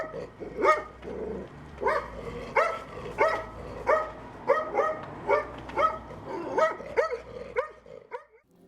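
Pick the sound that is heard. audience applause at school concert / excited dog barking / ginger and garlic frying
excited dog barking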